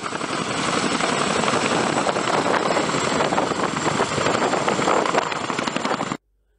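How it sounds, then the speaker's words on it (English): Loud, steady roar of a landing Chinook heavy-lift helicopter's rotors and engines close by, a continuous dense wash of noise that cuts off abruptly. "Check out this insanely scary landing of a Chinook helicopter."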